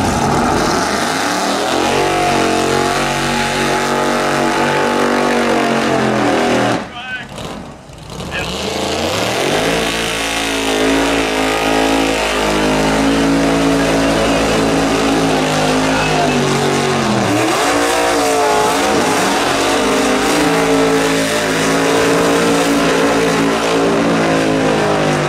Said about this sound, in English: showing a huge selection of burnouts and wheel stands from all kinds of gassers and hot rods at this event